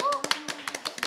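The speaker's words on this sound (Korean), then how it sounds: "그럼 자, 박수!" A few sharp hand claps ring out in a quick, uneven burst at an eve-of-festival talk event. A brief voice comes just before them.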